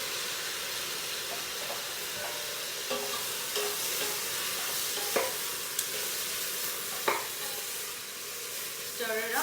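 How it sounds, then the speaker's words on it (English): Tomatoes stirred in a pot make a continuous bubbling sizzle with occasional spoon knocks and scrapes, close and without speech. "Stir it up."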